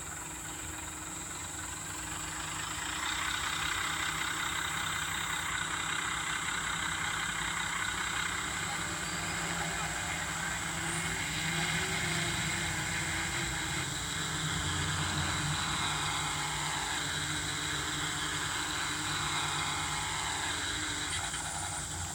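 Cummins diesel truck engine in a truck-pulling video game, a steady loud drone that swells after a few seconds and holds throughout.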